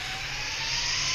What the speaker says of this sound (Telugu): ఇది జెట్ ప్యాక్ సౌండ్ వస్తుంది,